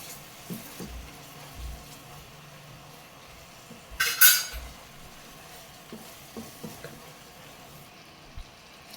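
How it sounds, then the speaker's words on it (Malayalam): A spoon stirs powdered cardamom and jaggery into thick jackfruit payasam in a pot, soft scraping strokes with a brief sharp clatter midway, faint sizzling underneath. "ഇളക്കി മിക്സ് ചെയ്യാം."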